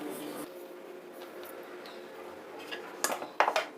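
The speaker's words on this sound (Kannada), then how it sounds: "ಒಂದು ಬೌಲಲ್ಲಿ ಹಾಕ್ಕೊಳ್ತಾ ಇದ್ದೀನಿ" Coarsely ground moong dal tipped into a bowl, mostly a soft low rustle that ends in a few close, sharp clinks and scrapes of dishware.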